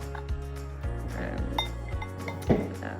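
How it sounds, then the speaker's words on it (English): Melting chocolate stirred in a pot at home, with scattered light clinks and scrapes of a utensil against the pot over a low steady hum, ending in a sharper knock. "I just keep stirring it so that it doesn't get"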